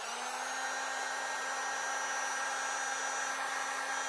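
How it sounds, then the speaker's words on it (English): A basic Harbor Freight heat gun blows hot air in a steady, even whoosh with a constant motor hum and no variation, close and alone in a cold room. "just have a basic Harbor Freight heat gun"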